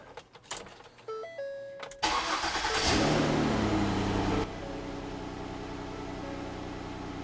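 A lifted Ford Escape engine cranks and catches after a few chimes and clicks, revs up loudly for a couple of seconds, then drops to a steady, even idle hum.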